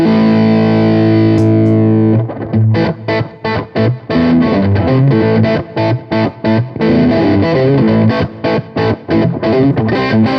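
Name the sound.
distorted electric guitar through Seymour Duncan Powerstage 200 amp with reverb and delay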